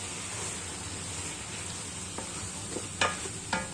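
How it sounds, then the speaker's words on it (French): Flour-dusted beef cubes for beef bourguignon being stirred in a pot, a soft steady hiss with a few sharp scraping knocks of the spoon toward the end, close and fairly quiet. "Et c'est parti, on remue."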